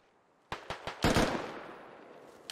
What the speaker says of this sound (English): Lima takes some shots at Peach there